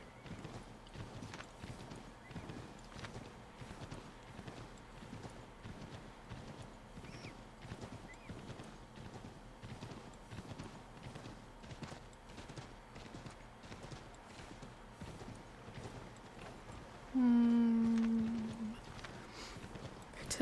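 A horse's hooves clip-clop in a steady walking rhythm in the Assassin's Creed III video game, with a low game soundscape behind. Near the end a loud whinny cuts in.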